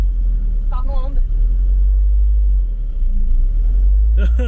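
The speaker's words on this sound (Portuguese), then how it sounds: "Você acelera, o giro sobe, mas a velocidade não." A Volvo car engine with a slipping clutch drones in a loud, steady low rumble as it revs without the car moving, with brief voices speaking over it near the start and end.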